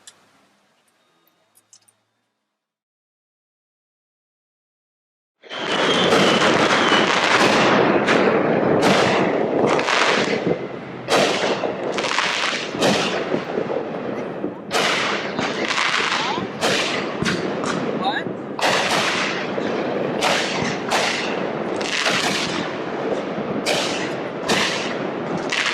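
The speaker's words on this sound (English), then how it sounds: "So what'd you think of the fireworks last night?" A fireworks display: after a few seconds of near silence, loud explosions and crackling bursts break out in quick succession and keep booming and popping for about twenty seconds.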